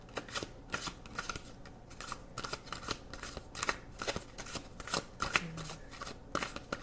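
A deck of cards being shuffled up close during a card-reading session: dense, rapid riffling flicks and soft slaps repeating in quick bursts throughout, with no talking.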